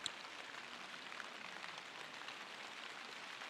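Rain falling as a steady, fine, even patter, quiet and continuous throughout with no voices.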